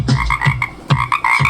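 A voice imitates a frog, giving a string of deep, throaty croaks in an uneven rhythm, close and fairly loud, with no other talk.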